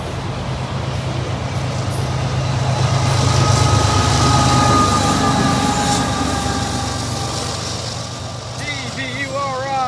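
A CSX train with a distributed power locomotive rumbles past at close range, its steady roar swelling in the middle and easing toward the end, with brief squealing tones near the finish.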